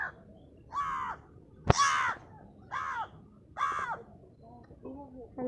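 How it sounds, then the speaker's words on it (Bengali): A crow cawing at Rangpur zoo, five or six evenly spaced harsh caws with a sharp click among them, fairly close and clear over quiet outdoor background. "একটা কাক"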